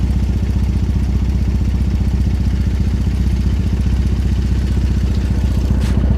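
A motorcycle engine with aftermarket exhaust pipes idles loud and close, a throaty, rapid low pulsing that holds steady throughout with no voices.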